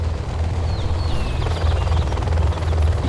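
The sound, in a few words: Gatling Helix helicopter in video game C&C Generals Zero Hour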